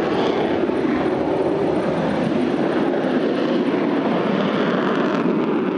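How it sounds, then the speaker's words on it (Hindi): Sustained, loud jet roar from a Sukhoi fighter's turbo engine at night, a steady broadband rumble holding evenly throughout with no voices. "रात के अंधेरे में टर्बो इंजन की ये आवाज मीलों दूर तक"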